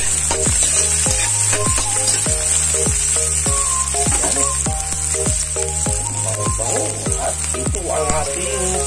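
Tomatoes hit a hot frying pan for kinunot na tulingan sa gata, a continuous bright sizzle laced with repeated clacks of a utensil stirring against the pan, close and loud.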